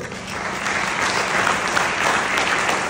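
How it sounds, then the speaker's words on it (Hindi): Steady applause from an audience at a teachers' and students' gathering in a hall, continuous dense clapping with no break throughout. "तो अपने CLI के लिए एक बार तालियां दी बजाएंगे दोस्तों।"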